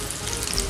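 Vegetable cutlets sizzle steadily in hot oil as they brown, a continuous close crackle and hiss with no pauses across the short moment.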